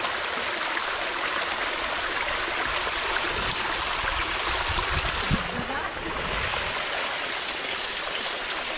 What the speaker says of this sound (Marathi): तर मित्रांनो आपल्याला छोटासा धबधबा भेटलेला आहे।